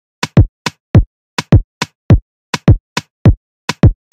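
Programmed drum pattern from a song: a steady, loud, syncopated groove of paired percussive hits, a bright high click followed by a deep thumping kick, repeating evenly with nothing else present.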